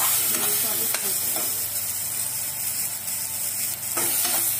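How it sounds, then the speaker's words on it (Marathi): Green chillies frying in hot oil give a loud, continuous sizzle with occasional stirring clatter, steady throughout without any voices. "चांगलं असं तेलात फ्राय करायचं।"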